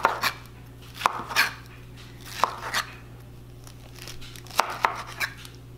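A pineapple is cut with a pineapple wedger, giving a few firm, crunchy chops and thuds on a board at irregular intervals, close and fairly quiet over a low steady hum, with no talking.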